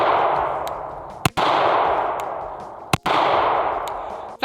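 Three sharp pistol shots fired one-handed with a limp wrist crack out at even intervals over a steady hiss of background noise, each a loud, abrupt burst.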